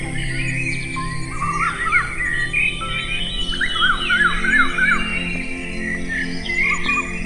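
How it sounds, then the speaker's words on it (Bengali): Birds chirping and calling at a riverside forest resort in the Dooars, with repeated bright trilling calls and occasional caws over a steady background hum, moderately near. "ভোরবেলা নদীর জলের শব্দে ও পাখির কলতানে আপনার ঘুম ভাঙবে"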